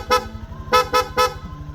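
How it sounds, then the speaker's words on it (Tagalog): Four short, loud toots from an aftermarket PIA-style dual horn on a Honda Click scooter, one then a quick burst of three, bright and close over a low idling engine rumble. "PIA auto style horn, dual horn setup, horn selector switch."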